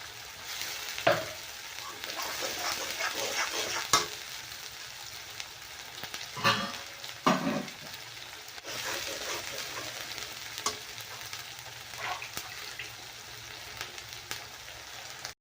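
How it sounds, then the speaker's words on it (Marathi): Masala being dry-roasted and stirred in a pan, soft continuous sizzling with several sharper scraping strokes of the spoon at irregular intervals, close and fairly quiet, no talk. "मसाला चांगला भाजून घेऊया आपण"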